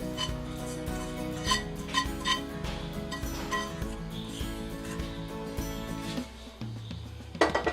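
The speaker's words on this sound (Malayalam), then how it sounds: "രണ്ടാം പാൽ ഒഴിച്ചു കൊടുത്തതിന് ശേഷം നമ്മൾ വഴറ്റി വെച്ചിരിക്കുന്ന സവാളയും പച്ചമുളകും എല്ലാം കൂടെ ഇതിലേക്ക്" Sautéed onion and green chilli tipped into a chicken curry pot after coconut milk, with dense metallic scraping and clinks of a utensil against the pot throughout, continuous and fairly loud, no talking.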